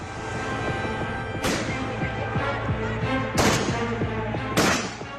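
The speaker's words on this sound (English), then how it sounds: "Fired tear gas shells." Dull booming tear gas shells fired by police amid a constant noisy crowd din at a violent street protest in Kolkata, with three sharper bangs spaced a couple of seconds apart.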